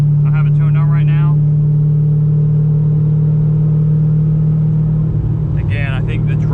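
A C5 Z06 Corvette droning steadily while driving, a constant low engine and exhaust hum holding throughout, with voices speaking briefly over it at the start and end.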